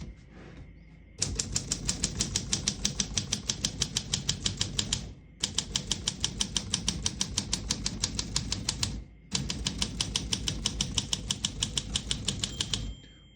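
Rapid, even keystrokes on a 1958 Olympia SM3 portable typewriter, close and crisp, in three long runs of clacking separated by brief pauses for the carriage.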